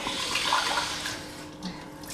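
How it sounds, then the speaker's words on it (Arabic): Water pours steadily into whipped cream powder, making a continuous close rushing splash that eases slightly toward the end. "نزيدو كيف العبر تاع الماء"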